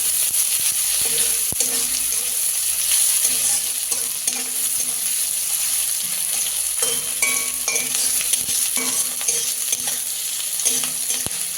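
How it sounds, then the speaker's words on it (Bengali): Chopped onion, green chilli and garlic frying in a pan, a loud, steady sizzle with intermittent scraping and knocking of a stirring utensil throughout, nobody speaking. "পেঁয়াজটা একটু হালকা করে ভেজে নেবো।"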